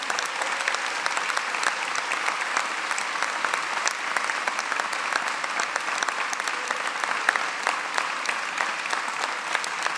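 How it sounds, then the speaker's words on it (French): Sustained applause from a large audience at a town's New Year greetings ceremony with speeches by local officials, dense and steady clapping filling the room for the full stretch, with no talk over it. "je vous propose de les applaudir"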